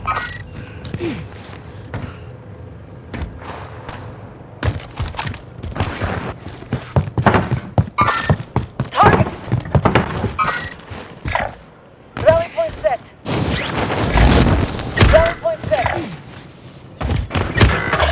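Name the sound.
precision airstrike explosions in video game Warzone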